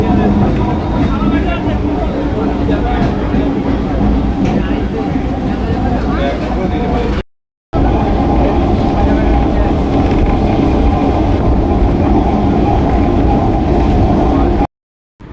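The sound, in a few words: train leaving a railway junction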